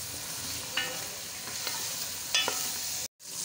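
Spices tossed into browned onions frying for veg kofta pulao, a steady sizzle with a few short stirring scrapes, ending in an abrupt cut to silence.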